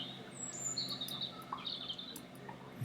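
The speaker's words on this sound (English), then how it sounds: "You see how happy that bird sounds?" Small bird chirping and tweeting in repeated bright bursts, fairly close and clear over a quiet background, with no talk.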